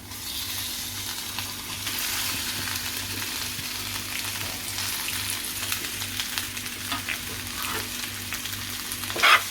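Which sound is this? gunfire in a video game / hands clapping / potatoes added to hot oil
potatoes added to hot oil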